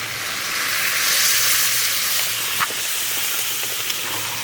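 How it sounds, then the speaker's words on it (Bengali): Water poured into spices frying in a pan while cooking greens and dal, giving a steady loud steaming hiss and sizzle throughout with no talk. "এবার জল দিয়ে দেব।"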